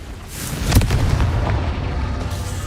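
A Confringo fire spell detonates in the video game Hogwarts Legacy, a single loud booming blast with a rumbling tail that fades over a couple of seconds.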